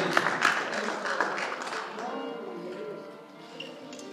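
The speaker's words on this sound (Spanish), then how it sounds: "aplauso" Audience applause for a mother at a Mother's Day celebration, a dense wash of clapping that is loud at first and then fades to a softer patter with voices mixed in.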